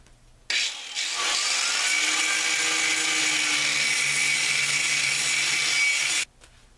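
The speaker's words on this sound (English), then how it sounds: "we've got it scored all the way around using our grinder" An angle grinder scores a groove around a terracotta pot, a steady loud abrasive whine and hiss running continuously for several seconds before cutting off abruptly.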